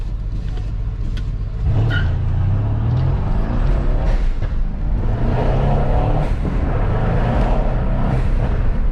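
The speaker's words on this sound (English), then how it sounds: "I definitely hear the intakes so much more" A Mercedes C63 S AMG engine with VRP intakes roars as it accelerates hard in sport mode, a loud rising intake growl with deep rumble, heard from inside the cabin through a slightly open window.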